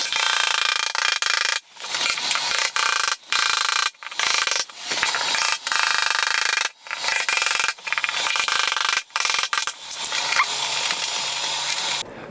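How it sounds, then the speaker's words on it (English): A 5-way tool is driven into drywall with a hammer in a circular motion, producing loud, repeated gritty scraping and rasping bursts separated by short silent pauses. "I'm going to use this 5-way tool, and I'm going to use my hammer to pound it into the drywall in a circular motion"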